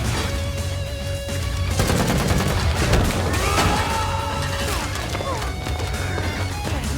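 Rapid bursts of pistol gunfire crackle amid a loud, chaotic action scene, with booming impacts and shouting voices mixed in.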